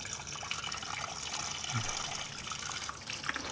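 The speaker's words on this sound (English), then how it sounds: "I'm going to fill it up the rest of the way with water" Water pours into a container of brine for peach habanero ribs, a steady gushing, splashing fill with no break, close by and moderately loud.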